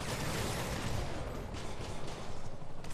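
Dense, continuous gunfire and explosions from the Marvel's Spider-Man video game form a steady, loud barrage with no pauses and no speech.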